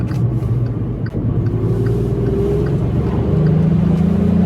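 A lowered car on bad tyres accelerates hard along a country road, its engine a loud, close, rising drone that climbs steadily in pitch with no talking over it.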